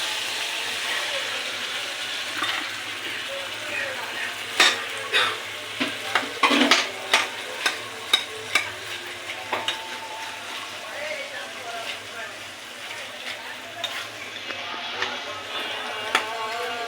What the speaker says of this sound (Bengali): মশলাটা কষানো আমার হয়ে গেছে, যে তেল উপর থেকে ভেসে উঠেছে।